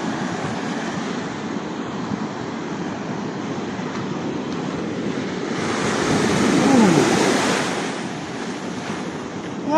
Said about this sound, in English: So I just stopped here and looked back at the waves.